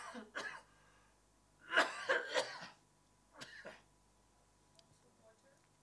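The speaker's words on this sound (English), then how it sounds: "I'm about to cough" A man delivering closing remarks at a lecture coughs in a few short, rough bursts, one stronger cluster in the middle and a fainter one after, in a quiet room.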